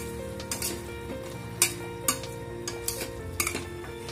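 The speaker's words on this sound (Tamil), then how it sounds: "போட்டு நல்லா மிக்ஸ் பண்ணிக்கோங்க." A spoon scrapes and clanks against a pan while mutton with chili and coriander powder sizzles gently underneath, with a few sharp metallic taps as the stirring goes on.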